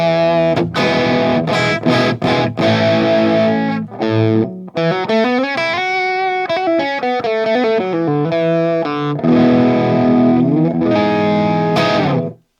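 Electric guitar played through a Mythic drive pedal on a Fender Tone Master Pro, with thick, sustained distorted chords and melodic bends, loud and close, no talking.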